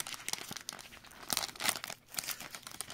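Paper packaging, with some plastic, crinkles and tears while a Disney figurine is unboxed, close and busy with irregular bursts of crackling and rustling and no talk.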